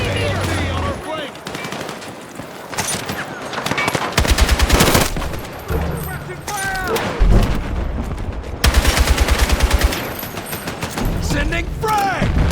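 Machine gun fire in the Battlefield 6 campaign during a city assault: repeated loud rapid bursts of automatic fire, near and sharp, with shouted voices between and under the shots.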